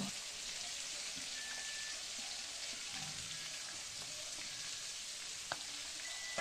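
Chopped onion fries in oil with lightly browned crushed garlic for a potato chicken curry: a steady, fairly quiet hiss of sizzling throughout, with a few faint clicks and no speech.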